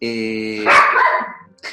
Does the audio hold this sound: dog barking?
yes